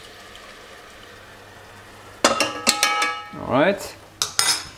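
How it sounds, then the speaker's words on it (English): Cream is stirred into a mushroom and port sauce in a pan, heard as a quiet opening followed by sharp spoon-on-pan clinks and scraping strokes, close and loud. "I'm gonna then add a bit of my cream. I'm gonna stir it a little bit."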